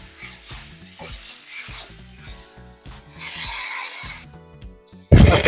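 Browning ground meat being scraped around a pan for a meat lover's pizza, with repeated rough rasping strokes and light sizzle over quiet background music, ending in a sudden louder burst.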